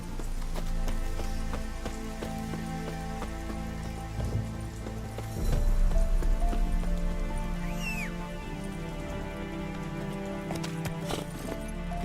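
Roach, a horse in The Witcher 3: Wild Hunt, clops along at a steady trot, with hoofbeats landing in a regular rhythm and a soft whinny over a faint, rain-like background wash.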